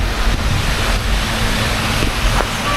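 Steady wind rushing outdoors in a park in Brussels, a loud broadband gusting roar with mic buffeting and faint thumps, no one talking.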